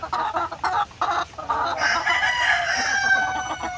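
A rooster crows loudly nearby in a chicken breeding pen while hens cluck steadily around it, a busy farmyard chorus with no talking.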